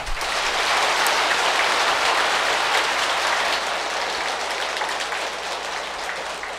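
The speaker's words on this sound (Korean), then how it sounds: "크게 박수 한번 치십시오." Dense, steady applause from a large audience at a Buddhist bodhisattva precepts assembly fills the whole stretch, a loud continuous wash of many hands with no voices over it, tapering only slightly toward the end.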